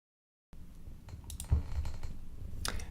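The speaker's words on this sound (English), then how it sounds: "So I'm going to search for" A computer keyboard typed on in a few sparse, soft clicks and key taps nearby after a short silent start, with quiet room tone between strokes.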